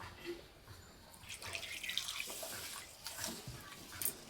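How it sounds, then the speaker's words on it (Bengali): Two cups of sun-dried rice are washed by hand in a bowl of water, giving faint, close sloshing and trickling with small splashes throughout. "আর চালটাকে পরিষ্কার করে ধুয়ে নেব।"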